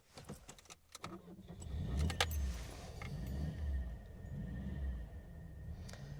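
A Lancia Gamma Berlina with a flat-four engine cranks briefly and catches, settling into a low, steady idle rumble close by, with keys jangling and small clicks at the start.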